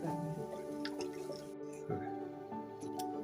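Tamarind pulp squeezed by hand in water for a fish curry, giving soft wet squishes and drips that repeat in short bursts over a steady tonal background.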